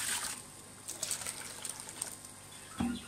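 Water is poured in to help move young fish into a larger container, making a soft, close trickling splash that runs on with a small gush near the end.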